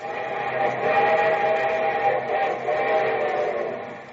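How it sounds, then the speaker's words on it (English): A train whistle sounds over the rumble of rolling railroad cars as a radio-show sound effect, a steady moderately loud blast that fades toward the end. "And here comes our star-studded show train."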